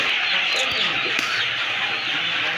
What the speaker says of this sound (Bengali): এই যে দেখেন অসংখ্য মুরগি আছে আমাদের